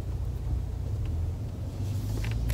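Steady low engine rumble heard from inside a moving car, continuous and fairly loud with road noise, no talking.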